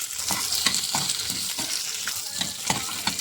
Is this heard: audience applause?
no